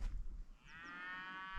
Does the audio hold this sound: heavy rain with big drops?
no